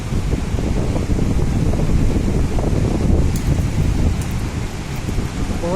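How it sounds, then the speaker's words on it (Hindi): Heavy rain driven by a strong windstorm in Karachi roars in a dense, continuous wash with gusty buffeting on the microphone, loud and unbroken throughout. "बहुत खतरनाक बारिश हो रही है।"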